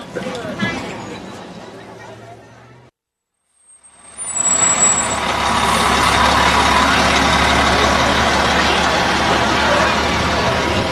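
Fire truck engine idling at a Kids Day event in Jenkins, Kentucky: a loud, steady, close diesel rumble that starts after a short gap of silence and holds evenly to the end, following a few seconds of other noise.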